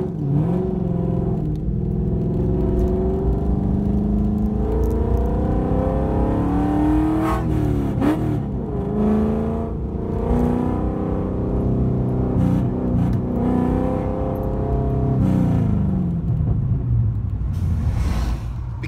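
Modified V8 car engine, not a stock 302, rumbles with a deep lumpy idle and repeated throttle blips, revving up and falling back several times, loud and close with no talk.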